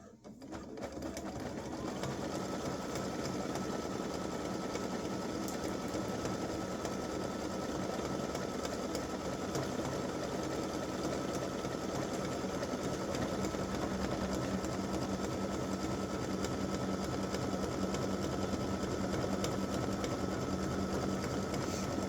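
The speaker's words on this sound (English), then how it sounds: "it's going to go around and stitch one more time just to give it a good hold" An embroidery machine steadily stitches an in-the-hoop mug rug, a continuous mechanical whir and rapid needle chatter at an even level from start to finish.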